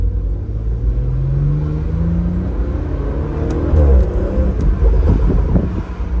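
BMW 440i fitted with a catless downpipe exhaust, revving loudly up close with a deep rumbling growl that climbs in pitch, then bursts of pops and crackles toward the end.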